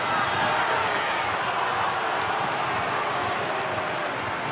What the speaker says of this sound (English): The crowd baying for the yellow card